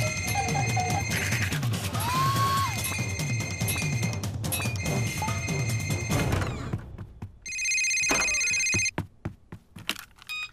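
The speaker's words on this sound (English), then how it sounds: "That sounds like my phone." A cartoon telephone rings in repeated bright electronic bursts, loud and close, with a short break before a final louder burst; no speech over it.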